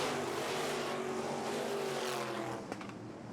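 Midwest Modified race cars roar around a dirt racetrack during a heat race, a loud, sustained engine howl from several cars at once that eases slightly toward the end, with crowd and track noise beneath.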